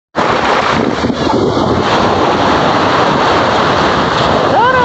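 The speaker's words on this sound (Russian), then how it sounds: "Волны, море и мы." Black Sea waves and surf at Odessa at the end of summer, recorded on the shore as a loud, continuous wash of broadband rushing noise with heavy wind buffeting on the microphone and no pause throughout.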